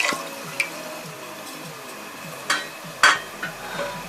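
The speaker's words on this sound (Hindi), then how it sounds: "पैन में मैंने दूध डाल दिया।" Milk pours into a pan as a steady liquid trickle with scattered drips and small splashes, close and clear, no voices.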